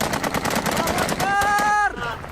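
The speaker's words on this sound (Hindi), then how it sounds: "सीरिया नेशनल आर्मी के लड़ाकों ने की फायरिंग" Celebratory gunfire from Syrian National Army fighters in the street, heard as rapid cracking shots mixed with shouting voices and a brief whistling tone, fairly loud and chaotic.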